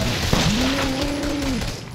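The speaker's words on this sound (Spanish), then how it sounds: "Bendita la ametralladora, bendita la puta ametralladora." Machine gun fire in Resident Evil 7, a dense continuous rattle of shots, loud and close, with a tonal whine or groan rising and holding partway through, and no talking.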